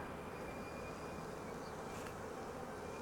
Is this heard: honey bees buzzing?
yes